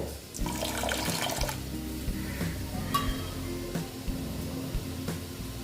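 Water is poured into a pan to make sugar syrup for sooji gulab jamun, a fairly loud, steady close splashing pour that lasts nearly the whole stretch, with no speech.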